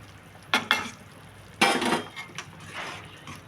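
Spoon scraping and stirring through a potato poori curry in a pan as gram flour is mixed in, a few close clattering strokes and a longer burst of scraping, without speech.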